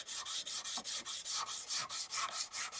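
Spoon knife or scorp being sharpened with worn 400-grit abrasive paper wrapped on a wooden dowel, a steady close rhythm of about fifteen short rasping rubs repeating at an even pace, with no voice.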